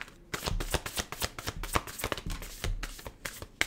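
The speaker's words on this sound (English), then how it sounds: "Let me shuffle." Tarot cards being shuffled by hand close up, a dense run of quick riffling slaps and papery flutters in an irregular rhythm, fairly loud and with no voice over it.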